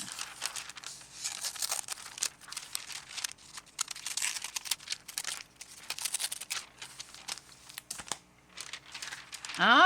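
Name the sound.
cutting out images from thin magazine paper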